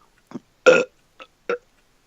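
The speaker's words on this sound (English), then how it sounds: "It contains curry-smelling burp." A man lets out several short burps up close in a quiet room, with one longer, louder belch among a few brief ones, spaced unevenly across a couple of seconds, and no talking.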